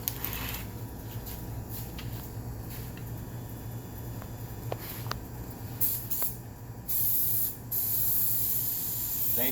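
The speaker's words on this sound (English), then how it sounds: "You got to spray that as well." Close, steady hissing from a can of spray adhesive as glue is applied to a laminate sheet for a wall panel. The spraying swells louder toward the end, with a few faint clicks and no voices.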